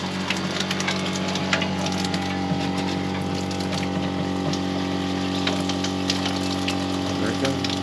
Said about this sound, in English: we're going to go ahead and turn our pump on